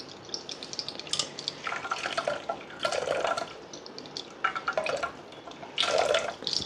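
Warm water drips and trickles from wet towels during a chocolate relaxation massage, with soft splashes and pattering bursts recurring every second or so, close and fairly quiet with no voices.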